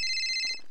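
Telephone ringing in a GTA roleplay game, a short electronic ring tone sounding clear and close for under a second, alone with no voices.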